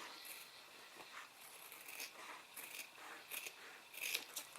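Scissors trim excess fusing along the edge of a shirt collar, giving soft, close, repeated snipping and crunching cuts that run quietly and alone, with a slightly stronger cut at the end.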